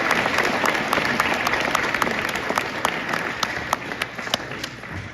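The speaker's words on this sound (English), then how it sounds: "another round of applause." Steady applause from a crowd at a college signing ceremony, with sharp individual claps standing out over a continuous patter of hands, fairly loud throughout.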